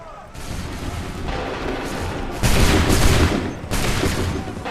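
Musket volley from a line of soldiers in Assassin's Creed 3, a loud rolling burst of massed gunfire that swells twice and stays dense with no talk over it.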